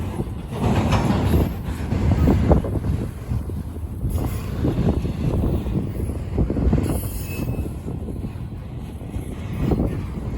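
CSX I-158 freight train rolling past Lake Avenue in Blasdell, New York on a windy afternoon, a loud sustained rumble of cars and wheels with occasional squeal and heavy wind buffeting the microphone.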